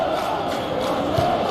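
Stadium crowd in a football video game, a Super League match between Tottenham and Atletico Madrid, gives a steady, dense roar of cheering throughout.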